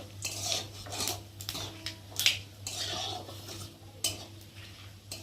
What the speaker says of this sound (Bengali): দিয়ে ভালো করে ফোড়নটা একটু ভেজে নেব।